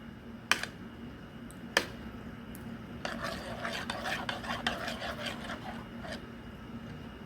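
Potatoes being mixed in a bowl: two sharp knocks, then about four seconds of rapid, close clattering and scraping as the pieces are tossed and stirred, with no talk.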